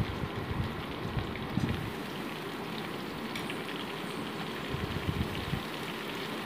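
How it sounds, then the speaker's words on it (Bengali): Chopped onion sizzling with potatoes in hot oil in a pan, a steady crackling hiss with occasional louder bursts of spatter, close and continuous, with no voices. "এবার আমি এর মধ্যে পেঁয়াজ কুচিটা দিয়ে দিচ্ছি।"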